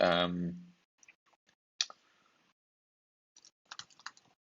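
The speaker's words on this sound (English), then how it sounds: "I don't mean to keep clicking that." A computer mouse clicks in scattered, sharp, quiet taps, some single and some in quick clusters, after a person stops talking at the start.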